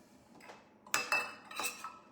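Dishes and cutlery clink together in a home kitchen sink, a few sharp close knocks and rattles in quick succession, fairly quiet with no talk.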